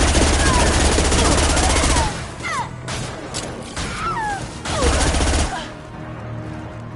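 Rifle fire in Mass Effect 2 comes in loud, sustained bursts, broken by short pauses and battle effects, with a voice speaking briefly over the shooting.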